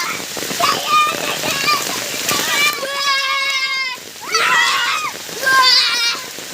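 First monsoon rain splashes and patters on surfaces in a Konkan village, a steady wet hiss punctuated by splashes, with children's voices and a tonal cry rising over it.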